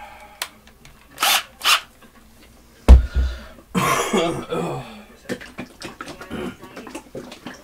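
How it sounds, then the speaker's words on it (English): Several harsh coughs come close together, followed by a heavier coughing fit with throat rasping, then quieter breathy noises and shuffling. "I'm coughing because the pain in my back is resonating through my chest"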